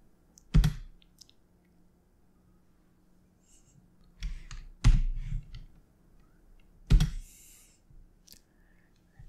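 A computer keyboard produces three separate clusters of sharp key clicks spread over several seconds, each one a brief burst of tapping. Close, crisp and isolated against quiet room tone, with no talking.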